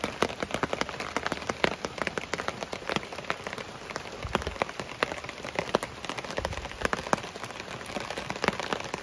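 Rain pours down steadily on a farm, a dense patter of drops striking surfaces with frequent sharp, close splats scattered through the constant wash.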